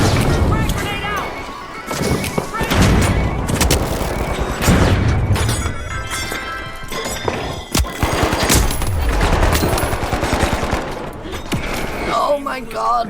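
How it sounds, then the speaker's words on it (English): In a fast match of The Finals, a frag grenade goes off amid heavy gunfire, with dense bursts of shots, crashes and explosions in a loud, chaotic mix, and someone talking over the action. "Frag grenade out!"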